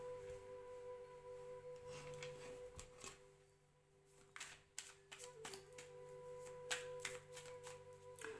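Tarot cards are shuffled and laid out by hand on a surface during a reading, giving quiet, close, irregular riffling and soft snapping taps in clusters, with no talk.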